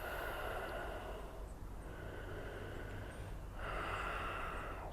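Slow, steady breathing during a qigong exercise, long soft inhales and exhales drawn close to the microphone, with no talking.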